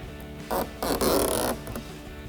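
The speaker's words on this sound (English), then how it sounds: "So now just work your way around, peeling off that double-sided tape." Backing strip peeled off double-sided tape on a Mustang GT style rear spoiler, a few close ripping, tearing pulls of varying length, loud against a quiet room.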